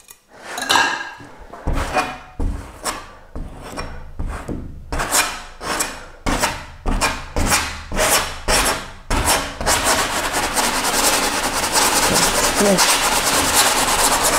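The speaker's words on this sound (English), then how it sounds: "I can just scrape it off and put it back on using a different palette knife" A palette knife scraping oil paint off a stretched canvas, with repeated close, rasping strokes in a steady rhythm that blur into continuous rough scraping toward the end.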